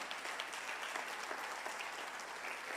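Sustained applause from a church congregation, many people clapping in a thick, continuous roar that holds steady from start to finish, with faint crowd murmur mixed in.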